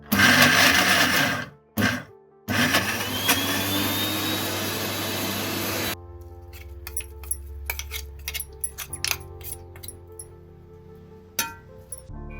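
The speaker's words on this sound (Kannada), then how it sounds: "ಇದನ್ನೊಮ್ಮೆ ಮಿಕ್ಸಿಯಲ್ಲಿ ಹುಡಿ ಮಾಡಿಕೊಂಡ್ರೆ ಆಯಿತು." A mixer grinder whirs loudly, grinding a grated coconut mixture to powder in short bursts for several seconds, then stops, leaving scattered clinks and knocks of the jar and lid.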